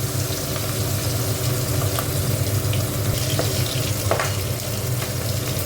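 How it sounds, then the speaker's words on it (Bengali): Katla fish tail pieces, rubbed with salt and turmeric, fry in hot oil in a kadai, giving a steady, close crackling sizzle with scattered pops and spatters throughout, no voices. "লেজাগুলো ভেজে নিচ্ছি"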